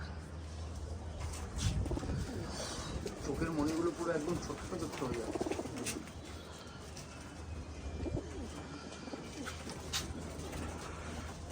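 Pigeons coo softly in the background while someone talks close by over a low, steady hum.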